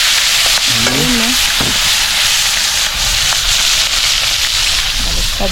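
Loud, constant crackling sizzle of food frying in hot oil fills the whole clip, with a brief high voice-like squeal early on.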